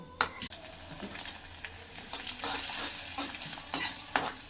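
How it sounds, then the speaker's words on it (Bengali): Flattened rice (chira) fries in hot oil with a soft, continuous sizzle, broken by scraping stirs and light clinks of a utensil against the pan. "এই যে চিড়েটা ভেজে নেব।"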